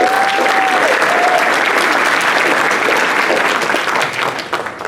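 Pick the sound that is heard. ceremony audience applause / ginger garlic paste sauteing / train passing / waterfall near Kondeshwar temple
ceremony audience applause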